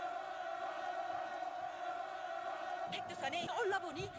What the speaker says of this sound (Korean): 답사인군 대원들은 격정의 환호성을 돋쳐올렸습니다